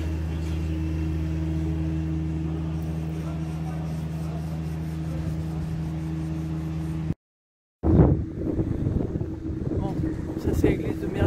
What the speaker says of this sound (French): Et il fait beau mais il y a du vent.